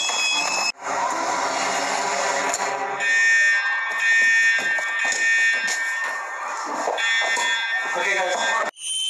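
Fire alarm sounding loud and continuous with steady high-pitched buzzing tones, with voices and commotion underneath throughout.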